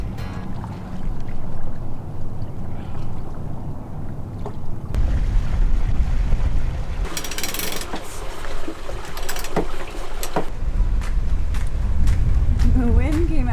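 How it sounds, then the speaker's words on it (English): Wind and water around a sailboat with ten knots of wind on the beam, a continuous rushing whoosh with splashing and knocking, growing rougher and louder midway, with people talking over it. "boom, 10 knots of wind on the beam"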